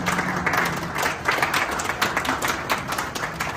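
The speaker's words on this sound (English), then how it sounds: "you'd want to do one more big round of applause for him" Crowd applause for a billionaire arriving at Prempeh II International Airport in Kumasi, a steady round of clapping filling the whole stretch at moderate loudness with no talk over it.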